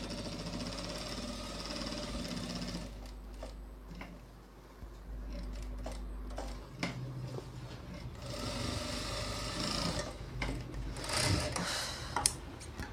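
A sewing machine stitches a designer blouse in stop-start bursts of rapid mechanical whirring, separated by short pauses and small handling clicks, with no speech.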